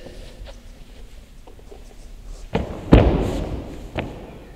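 Hands slapping the floor with straight arms during a back extension roll in a CrossFit workout: a few light taps, then a sharp loud smack followed by another thud, close by, with no talk.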